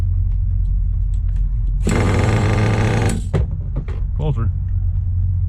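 A nitro-powered RC truck engine, still not idling cleanly after a cold start, roars in a loud buzzing burst for about a second, then drops away amid clatter while someone speaks briefly nearby.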